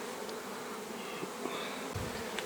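Honey bees buzz around a hive holding sealed brood and honeycomb, making a dense, continuous hum with individual bees droning close by now and then. No one speaks.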